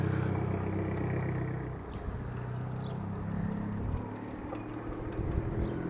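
A small Abarth car pulls away, its engine note rising and then receding as it drives off, heard at a moderate distance with a faint background hum.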